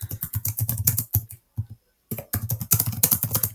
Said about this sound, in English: Oops, that was a horrible typing.